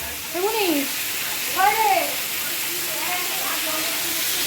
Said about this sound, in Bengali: দেখো আমি এবার ওই ভাপিয়ে রাখা শাকটা কলি শাকটা আমি দিয়ে দিলাম